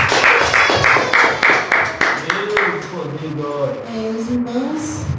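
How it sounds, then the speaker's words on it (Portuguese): A church congregation gives a round of applause in praise, a loud, rhythmic burst of clapping for about three seconds that gives way to a voice speaking. "Com a salva de palmas, louvor ao Senhor Jesus."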